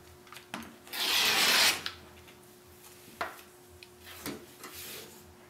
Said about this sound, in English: So I'm cutting my 2-inch strips just like this out of the black fabric